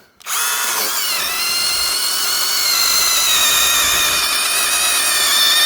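A battery power saw cuts into birch wood with a loud, steady high whine that starts abruptly and holds close and constant for several seconds, with no talking.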